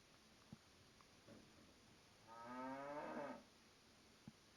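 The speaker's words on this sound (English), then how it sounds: "Where on earth is the sound of the cows coming from?" One long, low cow moo sounds faintly at a distance in the game Farming Simulator 22, with a few soft taps and clicks before and after it in a quiet setting.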